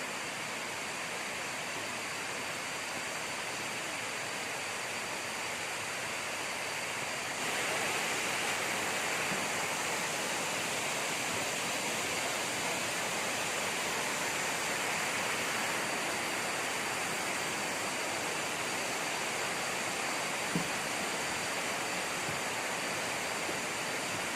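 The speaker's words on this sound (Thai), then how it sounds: "เสียงบรรยากาศ ของน้ำตก" A waterfall gives off a constant broadband rush of falling water that fills the whole scene. It grows slightly louder partway through and stays steady, with no voices.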